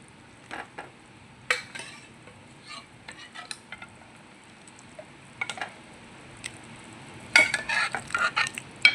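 Dal is added to Andhra-style sambar and stirred in a pot. Scattered spoon scrapes and clinks against the metal sit over a faint simmering background, in short irregular bursts that grow busier toward the end.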